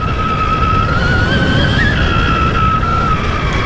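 Stark Varg EX electric motorcycle riding past with a steady high-pitched whine over broadband rushing wind and tire noise, loud and continuous throughout.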